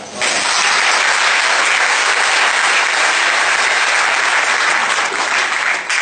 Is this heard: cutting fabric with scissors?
no